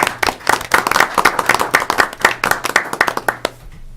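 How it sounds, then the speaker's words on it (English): A small group at a public utilities commission meeting gives a brief burst of hand clapping, dense at first and thinning out to a few last claps after about three and a half seconds. "I'd still like to give him a round of applause."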